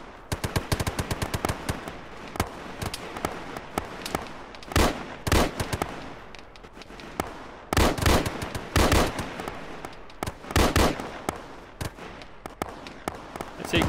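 Gunfire rattles in a military shooter game, with rapid machine-gun bursts and single shots repeating unevenly, some louder cracks standing out among quieter, more distant fire.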